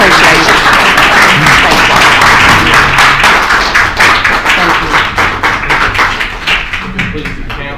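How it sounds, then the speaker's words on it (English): A council meeting audience breaks into a round of applause, dense clapping filling the room and tapering slightly toward the end, with a voice speaking briefly over it. "if you guys would join us in giving them a round of applause for their help"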